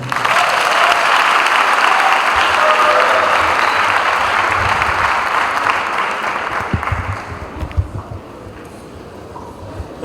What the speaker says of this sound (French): pouvons-nous applaudir encore plus fort.